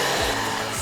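A Japanese LED plasmacluster hairdryer runs close up with a loud, steady airy roar throughout the short stretch.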